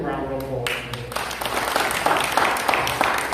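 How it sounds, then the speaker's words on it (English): Applause at a funeral service for Mr. Jaswant Mody, a steady wash of many hands clapping that swells in after a quieter start and holds fairly loud to the end. "So let's give a round of applause."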